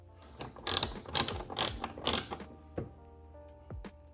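A ratchet wrench clicks in quick bursts of rapid pawl ticks while loosening an 8mm bolt under the fender area of a SAAB 9-5, close and crisp, trailing off into a few sparse single clicks.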